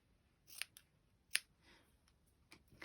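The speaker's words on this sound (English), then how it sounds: "That was rubbish cutting, Carol." Scissors snipping through fabric while cutting out a sewing tag: a few sharp, close snips spaced apart, with quiet pauses between them.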